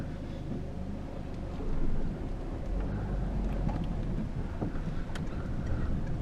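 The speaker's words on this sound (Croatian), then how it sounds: "evo vidite sam kako lijepo pali ovaj isti motor" A Peugeot 2.0 HDi diesel car engine runs with a steady low rumble throughout, close and even, with a slight surge partway through.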